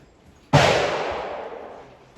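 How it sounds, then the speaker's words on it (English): A single sharp pistol shot at an outdoor range during precision shooting with a Trijicon RMR red dot sight, loud and close, with a long decaying echo. "Now let's do a little bit of precision with the red dot. A little bit of precision shooting."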